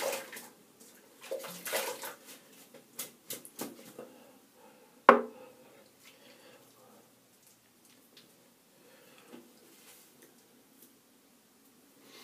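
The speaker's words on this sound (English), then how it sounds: "I'm going to have a quick rinse." A shaving brush rinsed under running water, with splashing and dripping bursts, loudest early with one sharp splash midway, then tapering to faint trickles.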